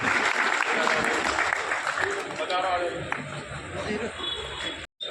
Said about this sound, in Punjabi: ਅਸੀਂ ਤਾੜੀਆਂ ਮਾਰ ਕੇ ਇਹਨਾਂ ਦਾ ਸਵਾਗਤ ਕਰਾਂਗੇ